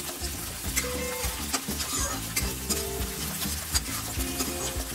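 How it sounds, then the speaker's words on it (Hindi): Green chillies sizzle in a pan for U.P.-style matar nimona while a utensil scrapes and stirs them. The frying hiss is steady and close, with no talk. "तो इसको थोड़ा सा चलाते हुए इस तरह से पका लेंगे"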